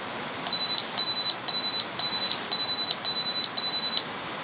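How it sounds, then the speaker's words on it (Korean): A carbon monoxide or gas leak alarm beeps during a test, sounding seven loud, evenly spaced electronic tones, each about a third of a second long, over a faint hiss. "이산화탄소 경보기, 뭐 가스 누설 경보기, 이런 경보기 같은 경우는 그냥 이제 선택이 아니고 필수예요"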